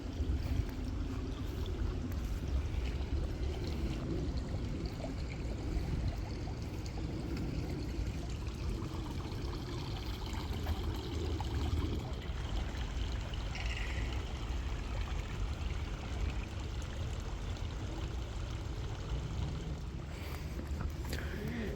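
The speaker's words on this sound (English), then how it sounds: "We've got the little stream here." Steady flowing water from a small stream in a park, a continuous close-up rushing and trickling wash that runs throughout without breaks.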